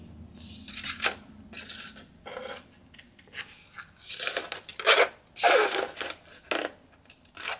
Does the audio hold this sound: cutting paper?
yes